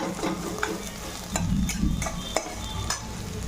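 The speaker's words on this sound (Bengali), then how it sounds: "রসুনটা দিয়ে একটু হালকা ভেজে নেব।" Garlic and onion frying in a pan with chillies, a steady sizzle broken by occasional stirring scrapes, close and moderately loud with no talking.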